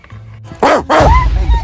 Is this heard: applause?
no